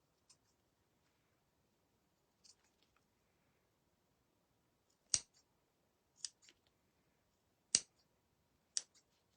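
Scissors snip the small plastic knobs off a Dollar Tree charger plate, making sparse, sharp cutting clicks at uneven intervals, close and crisp against near silence, with no talking.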